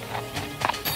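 Horse hooves clip-clopping in a few uneven, moderately loud steps over a faint background, as D'Artagnan's horse Tito arrives at an inn.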